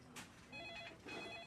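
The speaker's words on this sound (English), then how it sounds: "Your phone is ringing again." Telephone ringing in a 2012 drama, faint repeated electronic ring bursts in quick succession, with no talk over them.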